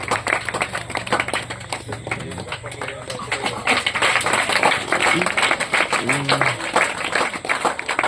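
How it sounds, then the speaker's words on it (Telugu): Audience applause at a Sunday school new year celebration in Nagulavaram as prize winners walk up to the stage, steady dense clapping throughout with a voice speaking over it. "వస్తున్నప్పుడు చప్పట్లు కొడుతూ"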